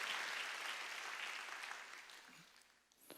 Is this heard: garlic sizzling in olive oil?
no